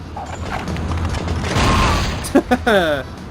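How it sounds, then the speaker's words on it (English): A frag grenade goes off in the PS1 game 007: The World Is Not Enough, a muffled boom rolling under game noise and a speaking voice, followed by a couple of short sharp bangs. "let's try a frag grenade"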